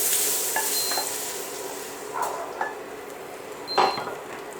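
Cooked lardons and onions frying in a pan, a soft steady sizzle with a few scraping stirs and light clinks of a utensil, fairly quiet and without speech.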